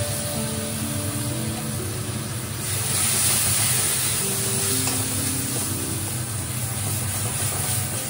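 Whisked sour yogurt poured into a frying spice masala for a Bengali chital fish curry, giving a loud, steady sizzle and hiss that swells sharply partway through as the yogurt hits the hot oil, with faint stirring under it.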